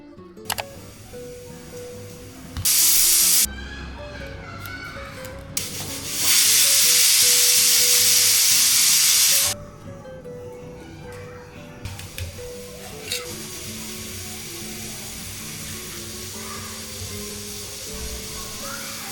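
A pressure cooker on a gas stove in a Mumbai home kitchen lets off two bursts of loud hissing steam, a short one and then a longer sustained release, with kitchen clatter and talk around them.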